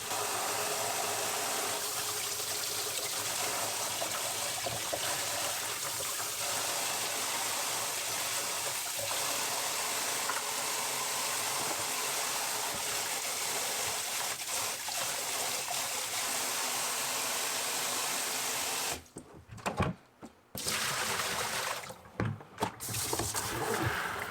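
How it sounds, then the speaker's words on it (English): Warm water runs continuously from a sink tap while aquarium items are rinsed under it, a steady rushing splash that briefly breaks up and cuts out near the end as the items shift under the flow. "just a thorough rinse with some warm water"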